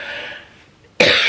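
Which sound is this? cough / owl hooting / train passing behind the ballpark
cough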